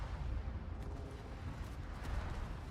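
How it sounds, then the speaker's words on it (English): A torpedo strikes a warship in World of Warships, giving a deep, muffled explosive rumble that rolls on at low volume with no clear sharp onset. "Torpedo hit"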